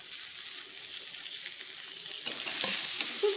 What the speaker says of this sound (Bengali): ভাজা হয়ে গেছে, এবারে টমেটো দিয়ে দেওয়া হচ্ছে এর উপরে।